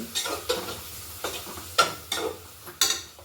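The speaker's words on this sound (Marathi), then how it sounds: "कांदा एक चिरलेला तो टाकून घेऊ आपण एक दोन मिनटं छान परतवून घ्यायचे" Chopped onions sizzling in a pan with spice tempering, stirred with a spoon in repeated scraping strokes every half second or so, close and clear.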